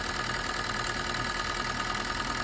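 A Maruti Swift Dzire engine misfiring because of a bent connecting rod on one cylinder idles with a steady, dense mechanical drone and uneven knocking, close and continuous for the whole stretch with no talk.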